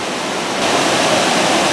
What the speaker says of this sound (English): It's a pretty good set of falls here.